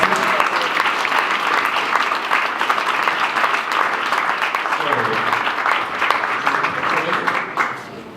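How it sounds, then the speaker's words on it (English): Applause at a startup pitch event, a large audience clapping loudly and steadily for several seconds before it tapers off, with some voices faintly underneath. "So, one more round of applause"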